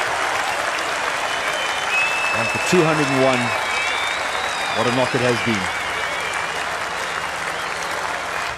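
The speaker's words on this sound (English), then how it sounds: "Deserves every bit of applause that he's getting." A cricket crowd at the 2015 South Africa vs England Test in Cape Town applauds Hashim Amla walking off after his 201, with steady, sustained clapping running beneath someone commentator's voice.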